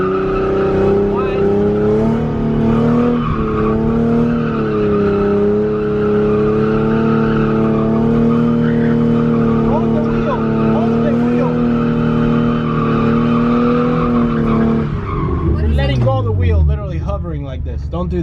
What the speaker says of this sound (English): This is what drifting is.